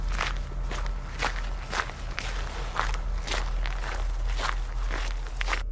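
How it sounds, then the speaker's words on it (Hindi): Footsteps of a man walking alone at midnight, a steady evenly spaced series of close crunching steps with no voices. "उस अंधेरी और आधी रात में सिद्धार्थ चलता जा रहा था"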